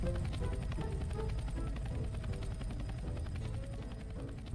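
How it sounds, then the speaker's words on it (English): A helicopter lifting off the ground in an animated game scene, a loud continuous rotor chop with rapid steady beating over a heavy low drone that holds throughout without voices. "The helicopter rose off the ground, with three of the heroes,"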